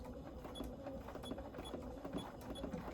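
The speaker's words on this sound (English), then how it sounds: "So I'm starting a straight stitch here. I'm going to go slowly so you can see that." A Bernina sewing machine runs a slow straight stitch, giving a soft, steady mechanical whir with faint rhythmic ticking of the needle, quiet and close with no talking.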